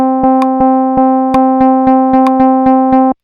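Synth notes programmed in Ableton as a polyrhythm of seven notes across the span of two, heard as a steady string of evenly spaced plucked tones with sharp attacks and a few higher accent clicks, loud and alone.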